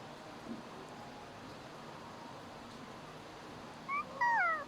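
Cat meowing outdoors on a quiet evening, two short rising meows near the end over faint background hum, otherwise still.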